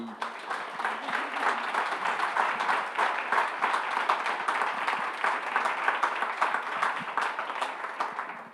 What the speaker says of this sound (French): Je remercierai mes panélistes, puis peut-être les applaudir